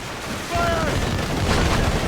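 Ship cannons firing in the Assassin's Creed Rogue video game: a heavy booming volley bursts in about halfway through and rumbles on loudly, layered with sea and wind noise and a voice.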